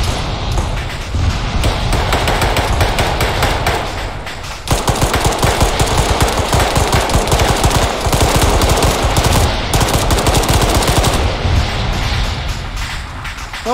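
Loud, sustained gunfire in a military video game, long rapid machine-gun bursts with dense overlapping shots and a brief pause partway through, heavy and close.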